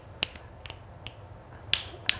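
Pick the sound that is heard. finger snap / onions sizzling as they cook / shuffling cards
finger snap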